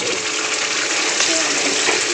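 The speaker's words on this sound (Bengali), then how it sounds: "আমি এবারে মশলাটার মধ্যে জলটা দিয়ে দেবো।" Water poured into fried, oil-separated spice paste for a Bengali fish curry (macher kalia), a steady broad rushing and hissing pour lasting the full couple of seconds, fairly loud and close.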